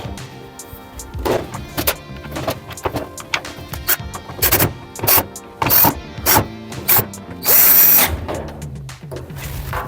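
Power drill running in repeated short bursts as screws are driven back into the panel of an LG washer dryer after a display PCB replacement, close and fairly loud with pauses between each burst.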